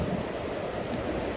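Sea waves at the seashore in Tarum make a steady, soft rushing wash with a light breeze, even and continuous throughout.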